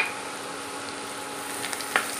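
Turmeric, red chili powder and asafoetida sautéing in hot oil with garlic, a steady low sizzle with a couple of brief clinks near the end, no voices.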